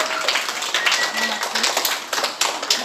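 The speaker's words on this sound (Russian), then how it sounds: "Хлопаем." Children at a school summer camp clap together in a dense, continuous round of applause, a bright patter of many hands close by. Brief voices cut in over the clapping.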